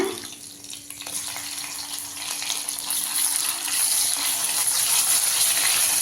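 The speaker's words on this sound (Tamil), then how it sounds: "பாருங்கள், எண்ணெய் காஞ்சிருச்சு. இப்போ கடுகு கொஞ்சமாக சேர்த்துக்கிட்டேன்." Mustard seeds frying in hot oil in a pan for Tamil-style egg curry, a steady crackling sizzle that grows slightly louder over the clip, close and alone with no talking.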